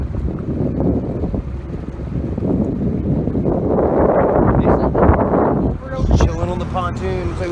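A pontoon boat overtakes on open water, its motor drone and hull noise mixing with heavy wind buffeting and splashing. People talk over the sound.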